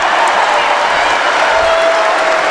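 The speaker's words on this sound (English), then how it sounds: "And listen to this crowd." Home crowd at a varsity boys high school basketball game roars after a three-pointer, a steady dense wash of cheering and applause with no single voice standing out.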